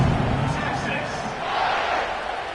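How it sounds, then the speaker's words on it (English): Stadium crowd noise in an Ohio State vs Texas college football video game, a steady, dense roar of cheering fans at kickoff, continuous and moderately loud throughout. "this crowd is feeling themselves after that last drive"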